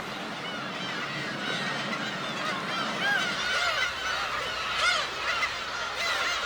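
Black-tailed gulls in a colony on an island call with overlapping nasal, honking cries, some loud and close and others farther off, in a continuous chorus.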